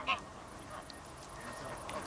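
Geese honk beside a Dutch polder at dusk, one loud close honk at the start followed by fainter calls against a quiet outdoor background, with a voice faintly present.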